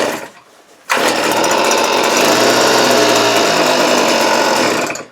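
A Hitachi gas leaf blower with the choke on catches after a couple of primes, its small two-stroke engine bursting into a loud, close, rattling run about a second in and holding steady until it drops off near the end.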